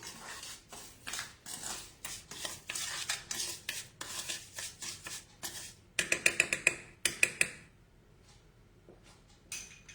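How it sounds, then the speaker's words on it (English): Ripe passion fruit pulp being whisked with sugar in a bowl, a quick run of rhythmic metallic whisk strokes and clinks against the bowl, close and brisk, trailing off into a few scattered taps and scrapes. "Okay, we'll just whisk it."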